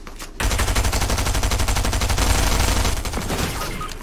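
Fortnite gunfire fills the game scene as a dense, rapid rattle of shots, continuous and loud, starting abruptly after a brief pause and running for several seconds.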